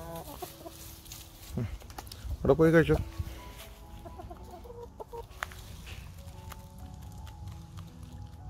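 Chickens clucking close by while pecking at sunflower seeds, a short loud burst of clucks in the middle, with people talking over the scene.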